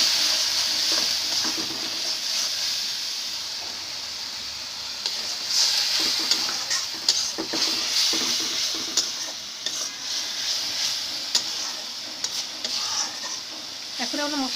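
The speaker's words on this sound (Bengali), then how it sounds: "এখন আমরা মশলাটাকে হালকা একটু কষাবো।" Ground spices sizzle in hot oil with a splash of water for a chicken curry, a steady hiss broken by repeated spoon scrapes and stirring clatter against the pan.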